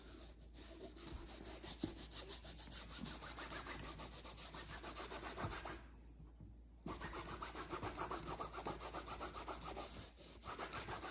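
A cloth rubs a thin layer of wax onto a painted antique book in a continuous soft scratchy rhythm, faint and close, pausing briefly partway through before the rubbing resumes, with no talking.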